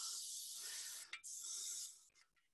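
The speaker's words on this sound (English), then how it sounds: "I would just take my ballistol and spray it down." Aerosol Ballistol lubricant sprayed onto greasy firearm parts: a loud, close, steady hiss lasting about two seconds, with a brief break in the middle and a few short sputtering bursts at the end.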